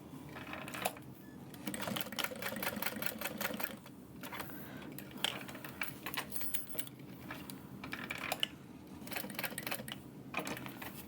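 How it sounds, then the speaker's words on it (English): A sewing machine runs a box stitch through webbing in bursts of rapid mechanical stitching with short pauses between runs, steady and close-up, with no talking. "Just doing a box stitch."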